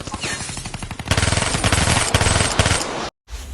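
Rapid bursts of machine gun fire rattle loud and close in a battle with grenades, rhythmic cracking volleys growing denser after the first second, then a sudden cutoff and brief resumption of noise.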